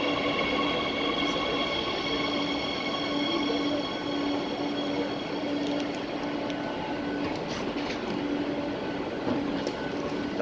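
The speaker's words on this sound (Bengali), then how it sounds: "আমরা ঢুকে পড়লাম মাদ্রিদের মেট্রোতে।" A Madrid metro train runs with a steady, loud rumble of wheels on rail and a faint metallic squeal, continuous throughout with no talking.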